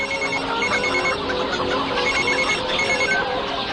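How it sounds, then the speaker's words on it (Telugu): A telephone rings out while a call is placed to a father, repeating short electronic tones in a regular pattern, steady and fairly loud with no talk over it. "ముందు మీ నాన్నగారికి ఫోన్ చేయి"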